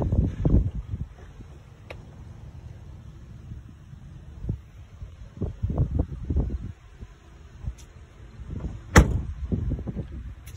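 Door of a 2015 Ram 1500 pickup with a 5.7 Hemi being opened and shut, several dull thumps and clunks spread across the clip with quiet pauses between, fairly close.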